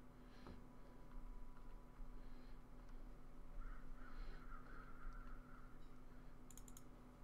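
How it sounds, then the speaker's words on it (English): A few crow caws ring out in the video game The Long Dark against a constant low ambient drone, with a brief clicking burst near the end. "oh, hello, crows."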